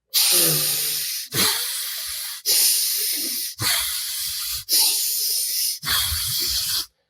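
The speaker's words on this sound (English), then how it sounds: "10 breaths in and out of your nose" Six slow, audible breaths through the nose, each a long airy hiss close to the microphone, separated by brief silent gaps.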